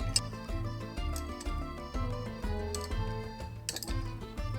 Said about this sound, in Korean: 바스푼으로 저어줄게요.